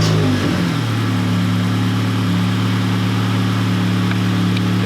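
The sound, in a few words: 9th gen Honda Accord engine idling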